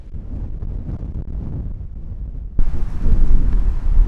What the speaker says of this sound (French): Le bruit du vent là comme ça dans les arbres